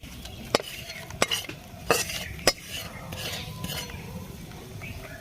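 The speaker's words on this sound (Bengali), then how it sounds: "এবার আমরা এটা নামিয়ে আচারের সাথে মিশিয়ে নেব" Spoon stirring fried spice tempering into a coriander leaf pickle: a run of sharp, close metallic clicks against the container, about one every half second, over a soft, steady background.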